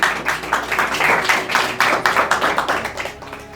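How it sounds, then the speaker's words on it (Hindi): Studio audience on a radio quiz show clapping for a contestant who advances to the next round, close, rhythmic clapping from a small group with distinct individual claps, loud and continuous. "इनके लिए भरपूर तालियां होंगी"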